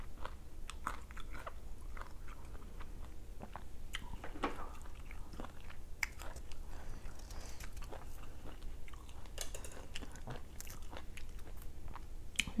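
Someone eats mango dipped in sweet fish sauce, with steady close-up biting and crunchy chewing throughout and no talking.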